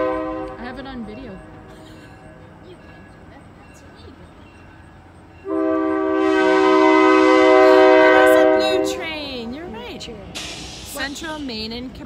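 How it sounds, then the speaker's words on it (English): A Central Maine and Quebec freight train sounds its horn at a crossing at Sutton Junction, Quebec, with a loud sustained multi-tone blast swelling midway and fading off, after quieter rumbling and earlier shorter horn notes. "Central Maine and Quebec train."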